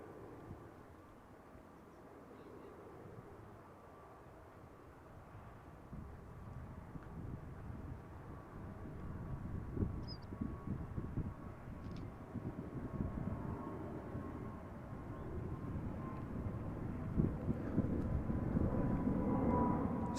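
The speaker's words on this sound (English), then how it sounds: "United Airlines arriving from San Francisco. 777-200." A United Airlines Boeing 777-200 arriving at Amsterdam Schiphol from San Francisco gives a distant, low jet rumble that slowly grows louder as it approaches, heard alone with faint background noise.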